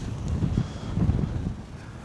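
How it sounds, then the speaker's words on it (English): Strong gusts buffet the microphone in a steady low rumble at the coast at West Kirby on the Wirral, with no voices over it. "It is very windy"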